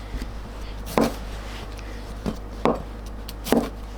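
A slightly dull knife cuts a tomato in half on a board, a handful of separate muffled chops spaced unevenly against a low steady hum.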